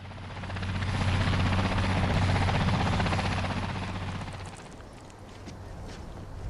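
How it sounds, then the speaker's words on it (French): Helicopter in the video game Dead Island 2, a loud steady rotor drone and whir that swells and then recedes into the distance, with no talking over it. "Ah, putain, l'hélico!"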